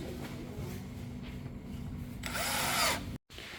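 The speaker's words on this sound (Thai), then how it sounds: "แล้วก็ใช้น็อตตัว F นะคะ ในการยิงแบบนี้เหมือนกันค่ะ" A power drill drives an F-type screw into a WD801 dressing table during assembly, a steady whirring hum that rises to a louder burst near the end before cutting off abruptly.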